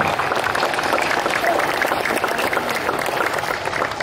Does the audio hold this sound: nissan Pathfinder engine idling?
no